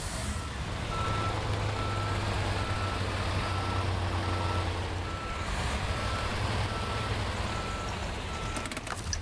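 A truck in the SnowRunner video game gives a steady series of evenly spaced electronic reversing beeps over a loud, continuous engine rumble while the vehicle backs up.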